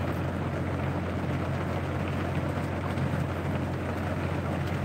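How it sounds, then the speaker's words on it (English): Continuous heavy rain hisses and rumbles at a constant level at a Maryland rest area, with no voices, a thick unbroken downpour. "It's raining."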